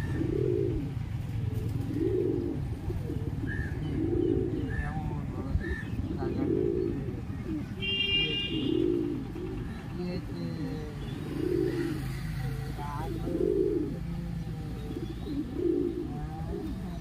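A white pigeon coos in a steady repeating rhythm, about eight soft calls spread evenly through the clip, close by over a low background hum, with a brief high chirp partway through.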